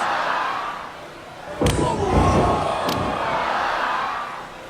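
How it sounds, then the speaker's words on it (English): An arena crowd roars and cheers at a wrestling match in the video game WWE 2K24, a sustained wash of crowd noise punctuated by two sharp slams partway through. "The crowd is electric"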